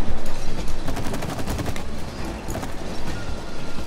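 Video game gunfire rattles in rapid automatic bursts at moderate loudness, a dense string of sharp cracks with brief pauses, and no voices over it.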